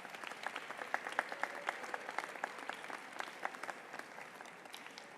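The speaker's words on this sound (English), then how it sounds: "give everyone here a round of applause for helping you arrive here today" Graduation crowd at a university fall commencement ceremony clapping together, a moderately distant, even patter of many hands with individual claps standing out, sustained throughout.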